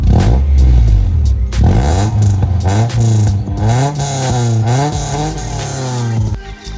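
A swapped Honda B20 engine in an EG coupe revs up several times close by, its pitch rising and falling in rough, throaty pulls over a loud idle.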